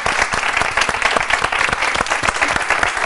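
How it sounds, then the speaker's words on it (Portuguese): Audience at a university stage event in Brazil applauds loudly and continuously, dense clapping from a crowd close by. "Uma salva de palmas para vocês."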